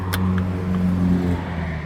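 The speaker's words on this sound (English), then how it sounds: "sorry about the traffic noise" A car engine hums and passes on a nearby road, a steady low drone of traffic noise lasting under two seconds with no talk.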